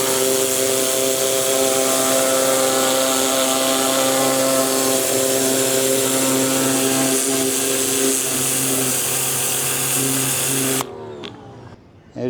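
A DeWalt 2600 PSI jobsite pressure washer runs with a loud, steady motor drone while spraying clay off the side of a rear tire, then cuts off abruptly near the end.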